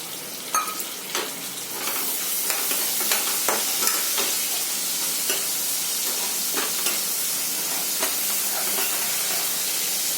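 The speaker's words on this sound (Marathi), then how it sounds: "तिखट टाकायच्या आधी दाणे टाकून घ्यायचे म्हणजे तेलामध्ये छान होतात हे दाणे" Peanuts frying in hot oil for a quick mixed vegetable dish, a steady close sizzle with scattered pops and stirring clicks throughout, no talk.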